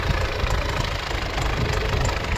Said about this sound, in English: All the vintage and classic tractors here.